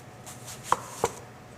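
A knife slices thinly through an apple on a cutting board, giving a few soft cuts and then two sharp knocks of the blade hitting the board, close and quiet with no talking.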